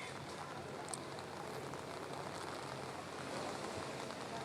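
Heavy monsoon rain pours over the Gateway of India waterfront in Mumbai, a steady, even hiss with no gaps and no voices, heard faintly at a low level.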